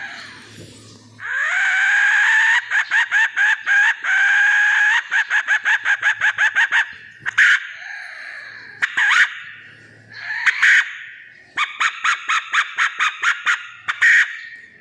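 A brass hen-call whistle made to attract roosters imitates a hen: a long drawn clucking note, then bursts of rapid staccato clucks repeated several times, loud and close with no talking.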